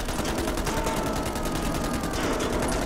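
Gunfire in the video game Man of Medan rattles as a rapid, continuous burst of loud, evenly spaced shots, like an automatic weapon firing without pause.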